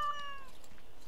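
A cat companion named Sir Pouncelot meows in the Dragon Age video game, a single clear, drawn-out meow with a falling pitch, heard alone and close.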